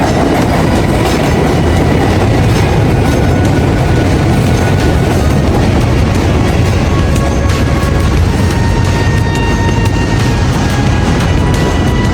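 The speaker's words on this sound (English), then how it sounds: "There's a cute train coming." A loud train rumbles and clatters past over the Manhattan Bridge tracks in New York City, with steady clickety-clack and metallic booming filling the whole stretch, no voices.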